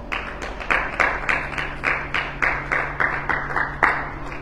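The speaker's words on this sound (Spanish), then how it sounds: "Denle un aplauso al Señor." Rhythmic clapping, roughly two claps per second, with a steady low hum beneath; a small church congregation applauding at an even pace.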